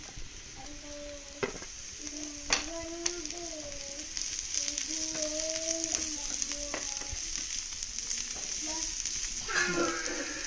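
Onions sautéing in a pan with a steady sizzle, salted to soften them while cooking for chicken putt, alongside intermittent stirring scrapes and a background tonal hum throughout.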